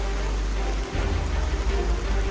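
Heavy monsoon rain in the Almora district of the Uttarakhand hills, a loud, unbroken roar of downpour with a deep rumbling low end.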